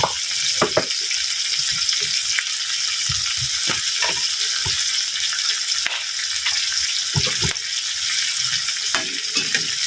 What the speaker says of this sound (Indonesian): iki goreng setengah mateng ae wis pemirsa